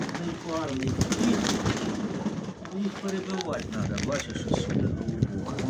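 Pigeons coo in soft, repeated throaty phrases close by in a loft, mixed with rustling and wing flutters while people talk over them.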